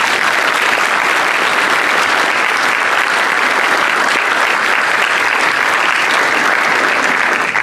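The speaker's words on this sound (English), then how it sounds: "a very strong round of applause for the parents" Strong, sustained applause from a large audience at a medical school commencement ceremony, a dense, loud wash of clapping that holds steady from start to finish.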